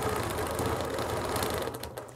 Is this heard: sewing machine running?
yes